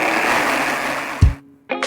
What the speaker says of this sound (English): we'll just blend those up until very well combined